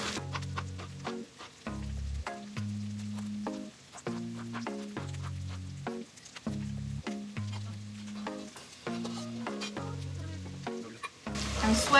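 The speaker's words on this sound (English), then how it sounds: "I'm sweating out the vegetables first." Chopped vegetables and onion sweating in oil in a pan, a continuous close sizzle broken by stirring knocks and scrapes at irregular intervals, with a louder burst near the end.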